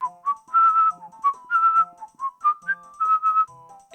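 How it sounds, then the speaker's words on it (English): A person whistles a lively, clear melody alone, close and loud, with short phrases and brief pauses between them. "Oh, just having a whistle"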